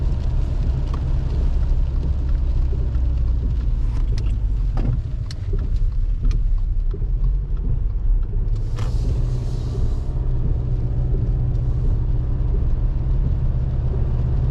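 Turbocharged Subaru Forester SK5 under hard acceleration, a loud continuous low engine roar and drivetrain rumble heard from inside the car, steady throughout with occasional faint clicks and no talk.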